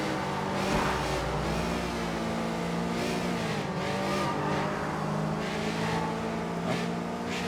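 A car drives steadily in the video game Sleeping Dogs: Definitive Edition, its engine a continuous mid-loud drone with slight rises in revs, laid over a constant background game soundscape, with no talking.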